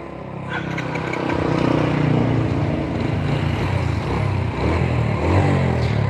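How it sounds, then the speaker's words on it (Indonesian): Yamaha Vega R motorcycle engine running with loose valve clearance, a steady close-up mechanical drone with a rough, ticking texture that swells slightly in level partway through, heard alone without talk. "Ini setting klepnya masih main kendor ya, jadi suaranya masih agak bunyi"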